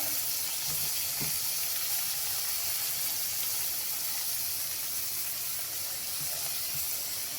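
Sliced bitter gourd frying in hot oil until golden, giving a steady broadband sizzle and hiss that holds unbroken throughout, with no talking.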